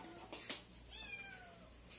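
A cat on a rural farm meows around lunchtime, giving a drawn-out, wavering meow or two at moderate distance over faint background noise, with no talking.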